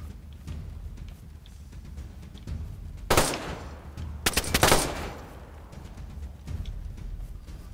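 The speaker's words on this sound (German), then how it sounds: "Schüsse oben." Two bursts of loud gunfire in the game DayZ, the first a short volley and the second a longer rapid string, over a low steady background rumble.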